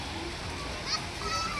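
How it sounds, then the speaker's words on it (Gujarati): A garden water fountain splashes in a steady, broadband rush that runs through the whole moment, with people talking over it. "પાણી ફુવારો"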